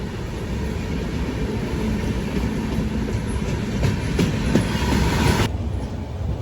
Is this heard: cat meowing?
no